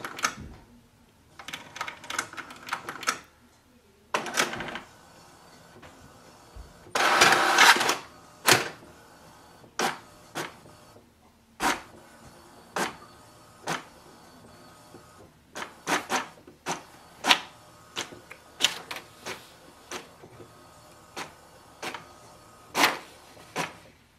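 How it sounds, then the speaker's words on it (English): HP Deskjet 3700 inkjet printer running a print quality diagnostic page: a rhythmic series of sharp clicks and short mechanical whirs from the print head, with one longer, louder feed burst, close by and with no talk. "Again it will print the print quality diagnostic page to show up if there is any improvement in the printing or not."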